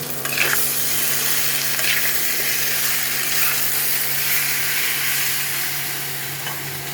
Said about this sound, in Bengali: এখন আমি মাছের মাথাটা উপর থেকে দিয়ে দেবো, দিয়ে ভালো করে মিশিয়ে নেব।